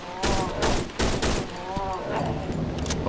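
Shotgun blasts in the horror game Cry of Fear, several loud broadband bursts in the opening seconds followed by denser noisy in-game sound, with a faint voice in the background.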